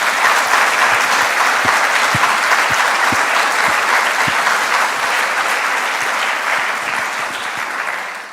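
An audience at the closing session of an F4E roundtable event breaks into a big round of applause, dense steady clapping that fills the room for several seconds and fades slightly at the end.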